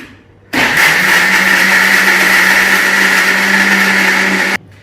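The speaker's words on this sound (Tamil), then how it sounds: "இப்போ இந்த பாதாமை நல்லா கோசா அரைச்சிட்டேன்" A mixer grinder whirs loudly at a steady high pitch for about four seconds, coarsely grinding almonds for badam halwa, starting and stopping abruptly with no talk over it.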